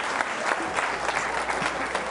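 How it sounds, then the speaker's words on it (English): A crowd at a televised talk event applauds in a thick, continuous roar of clapping, steady in loudness with scattered crisper hand claps standing out over the wash. "Give a round of applause,"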